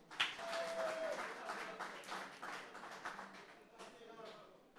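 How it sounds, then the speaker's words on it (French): Faint applause from an audience at an evening lecture welcoming the speaker, a soft, dense patter of clapping mixed with murmuring voices and a brief thin whistle near the start. "Je vous demande d'applaudir chaudement Ralph Jean-Baptiste"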